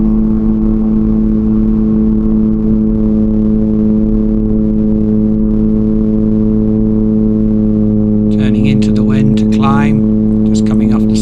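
Loud, steady droning light aircraft engine during a takeoff roll at Eaglescott airfield, a constant harmonic hum heard from inside the cockpit, with radio and cabin voices over it near the end.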